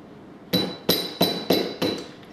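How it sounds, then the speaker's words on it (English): A rubber mallet taps a steel spanner wrench during barbell horn replacement on a BSP-1200 bench-scale ultrasonic processor: five light, evenly spaced taps with a bright metallic ring, close and clear, no talk. "We will now use the rubber mallet to lightly tap the second spanner wrench"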